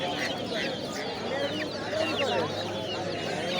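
Naked-neck chicks cluck and chirp steadily amid a busy, noisy poultry market crowd, with people talking throughout.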